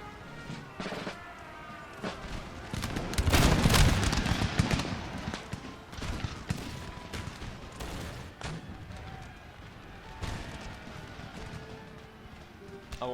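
Musket volleys and cannon fire from a battle in the video game Empire: Total War, Battle of Strasbourg, with sharp repeated gunshot cracks, a dense loud burst of fusillade in the middle, and scattered shots throughout.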